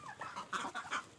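Quail raised as farm birds call in a short burst of several sharp, chirping notes, fairly faint and close together, with no speech.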